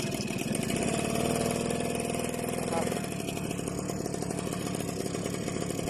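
A Suzuki Crystal motorcycle engine runs after a hand start, its buzzing two-stroke-like note steady and loud at first, then easing to a lower idle.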